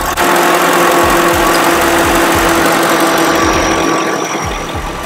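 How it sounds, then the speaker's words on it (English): Car engine running steadily with the A/C fan and compressor clutch engaged, a loud continuous hum with a repeating low rhythmic pulse throughout. "You can now hear the fan engaging."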